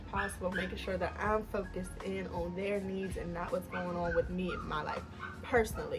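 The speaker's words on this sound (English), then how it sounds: "I really do apologize for the dog in the background." A dog barks, yips and whimpers repeatedly in the background of an indoor room while a person talks steadily over it in the foreground.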